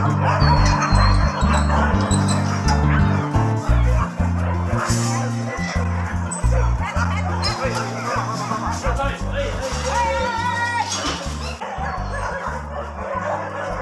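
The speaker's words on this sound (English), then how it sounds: "Near their house is a dog shelter around 200 meters away" Several dogs bark repeatedly and yip at a dog shelter, loud and close, with some whimpering, while people talk and laugh underneath.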